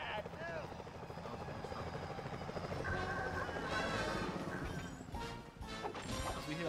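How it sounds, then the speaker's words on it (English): Security helicopters in the video game Sly Cooper: Thieves in Time whir steadily throughout, with crashing impacts and a voice speaking over the busy game mix. "Those security choppers are bad, too."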